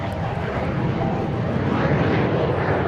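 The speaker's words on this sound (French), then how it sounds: "Le décollage de l'Alpha Jet Solo Display." A Dassault Alpha Jet solo display aircraft takes off at the Melun-Villaroche airshow with a steady, broad jet-engine roar that holds loud and unbroken throughout. No voice is heard over it.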